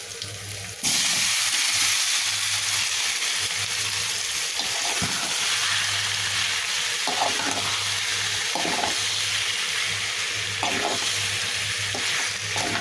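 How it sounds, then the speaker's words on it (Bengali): Boiled vegetables hit hot oil and fried onions in a wok with a sudden loud sizzle that keeps crackling steadily, with some faint stirring scrapes and clinks. "কড়াইতে তেল দিয়ে পেঁয়াজটা ভেজে নিয়েছি এখন সিদ্ধ করা সবজিগুলো ভিতরে ঢেলে দেবো"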